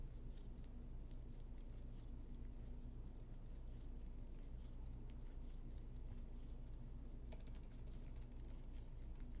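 Fingers type a mkdir command on a computer keyboard, a quiet run of rapid clicking keystrokes under a steady background hum, with no talking.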